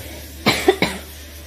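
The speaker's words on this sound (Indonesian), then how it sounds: "mohon maaf ya saya batuk" Two quick coughs, close and fairly loud, with a short gap between them and quiet background around them.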